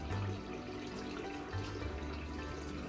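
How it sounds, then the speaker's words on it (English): Cold tap water running steadily over cooked macaroni in a kitchen sink, a soft continuous low wash with faint splashing. "run some cold water on this because we want our pasta to be cold"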